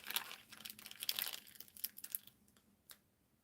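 Patterned card paper crinkles and rustles in a series of quiet, close crackles as a handmade zig zag flap card is turned over, tapering off into stillness with no voices.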